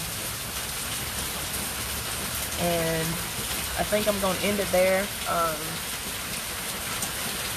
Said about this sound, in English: this rain is awfully loud